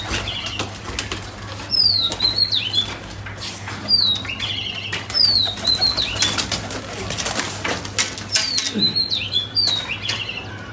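A pigeon's wings flap hard in repeated bursts close by as it is caught in a loft, while other birds chirp and tweet in the background.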